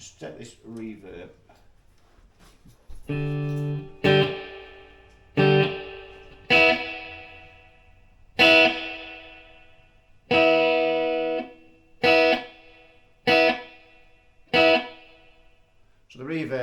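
Electric guitar through a Hughes & Kettner TubeMeister 36 tube amp on the clean channel with reverb: strummed chords with clean, ringing harmonics, each hit decaying into a short reverberant tail, played alone.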